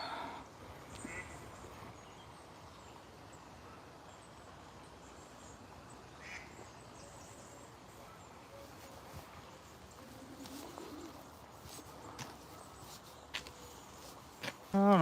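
Coots and moorhens call along an urban walking trail, with scattered short waterbird calls and quacks rising now and then from a quiet outdoor background.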